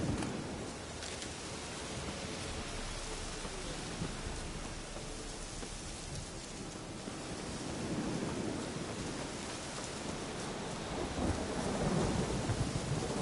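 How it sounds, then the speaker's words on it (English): A Witcher 3 thunderstorm sets heavy, steady rain hissing under low, rolling rumbles of thunder throughout, with no talking. "A storm, damn it."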